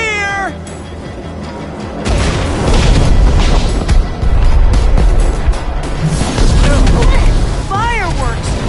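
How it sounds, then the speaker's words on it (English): Fireworks explode in the Minecraft Story Mode video game as a loud, dense run of rumbling booms. Vocal cries rise over the blasts at the start and near the end. "Fireworks!"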